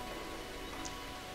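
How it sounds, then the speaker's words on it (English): Rain falls in a TV drama scene, a faint, steady hiss of drops on surfaces with no voices over it. "Is this rain?"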